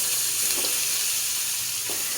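Large prawns fry in a pan, straightened on sticks, with a constant close sizzle and hiss and a couple of soft stirring touches, no voices.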